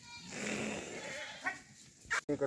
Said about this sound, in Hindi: ये बकरी है इनकी